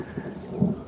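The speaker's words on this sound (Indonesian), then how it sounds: "dan memang di lokasi ini juga memang hujan" Tropical rain falling in a humid forest, a brief, steady hiss of rainfall with a low rumbling undertone and no voices.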